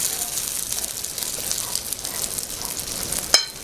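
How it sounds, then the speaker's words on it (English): Egg-coated sweet potatoes laid gently into very hot oil give a steady, close, bright sizzle throughout, with a brief sharp clink near the end. "you want to start placing the sweet potatoes You do that gently because the oil is very hot"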